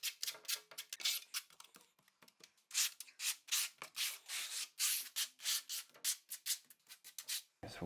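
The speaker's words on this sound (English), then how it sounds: "We're just going to basically skim this, and then we're going to trowel the back of the tile." A trowel spreads thin-set mortar across the back of a large bathroom floor tile, with repeated rasping scraping strokes in an irregular rhythm, close and fairly quiet, and no talking.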